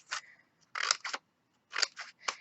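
Scissors make quick snips through paper for giant paper flowers, about six crisp close cuts grouped in short bursts with brief pauses between, no speech.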